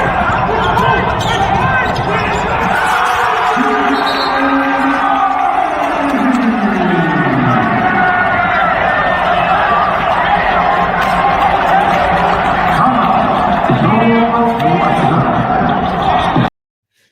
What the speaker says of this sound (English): they pump a little crowd noise in there to kind of make it feel normal